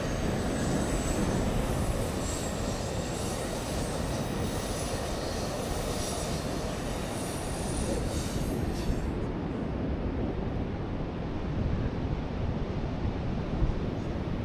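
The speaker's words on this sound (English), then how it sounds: "Next up is a southbound Amtrak Pacific Surfliner" A southbound Amtrak Pacific Surfliner train passes by the beach, a close, loud, continuous rumble of rolling wheels and rail clatter with faint squeals, steady throughout, with no voices.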